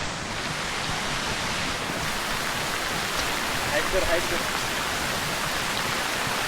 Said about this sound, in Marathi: जोराचा पाऊस आला एकदम